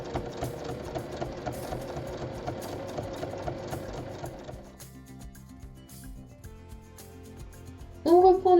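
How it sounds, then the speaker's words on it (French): A sewing machine runs steadily, stitching a long 7 cm fabric strip onto a large bag. The motor whirs continuously and eases lower partway through, then picks up again near the end. "On place ensuite la bande de 7 cm par-dessus et on va piquer sur toute la longueur."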